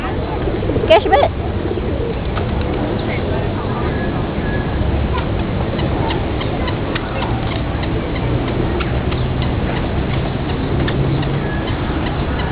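Pigeons coo softly in a low, repeated rhythm under steady background noise and ticking, with a brief sharp sound near the start; people talk over much of it.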